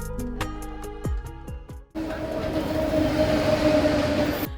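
A Mecheda-Howrah local train is heard up close, starting with a few ringing metallic clanks before settling into a loud, continuous rumble with a steady humming drone.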